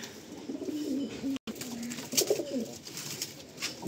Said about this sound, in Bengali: ধারে বিডার পায়রাগুলো দেখুন আপনারা